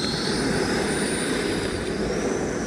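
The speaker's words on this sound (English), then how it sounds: "Half throttle takeoff to save some power." A radio-controlled jet aircraft roars steadily at half throttle during its takeoff run on pavement, a loud continuous broadband engine rush with a faint high whine, unbroken for the whole span.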